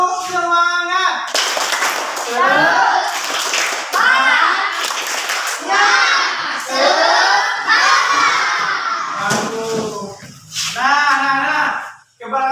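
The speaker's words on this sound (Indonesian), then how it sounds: "Mari sama-sama kita melakukan tepuk semangat." Schoolchildren at an Aceh primary school perform the tepuk semangat spirit clap, loud group chanting and shouting in bursts broken by brief pauses, with rhythmic clapping mixed into the chorus of young voices.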